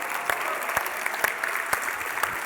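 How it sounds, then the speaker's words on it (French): An audience at an amateur competition claps for the teams, a moderate patter of applause with a few sharper individual claps standing out over a steady wash. "Une bonne main d'applaudissements à toutes nos équipes"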